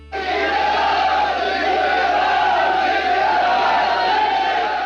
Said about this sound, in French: La foule acclame en retour l'homme du 18 juin.